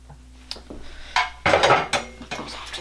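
Shredded zucchini is dropped into a bowl with several light, close clinks and soft thuds, the bowl and a utensil knocking a few separate times in a quiet kitchen.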